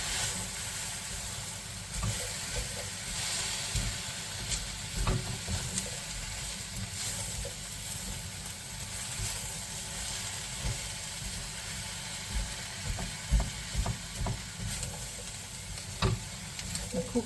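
Chopped onion and cabbage frying in a pan with a continuous soft hiss and crackle, faint with scattered small pops and occasional stirring, steady and unbroken.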